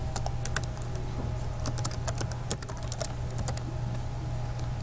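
Someone types a name on a computer keyboard, close by, in a quick uneven run of light key clicks over a faint steady room hum.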